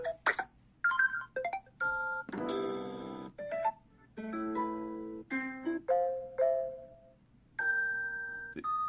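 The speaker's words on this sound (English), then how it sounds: "notification sounds. They have a bunch of these too." Samsung Galaxy S24 Ultra notification tones play one after another, a series of short chimes, dings and melodic beeps separated by brief pauses, clear and close with no talking.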